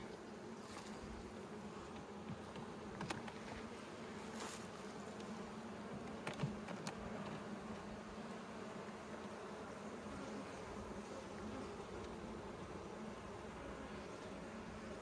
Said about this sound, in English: I can hear an angry bee behind us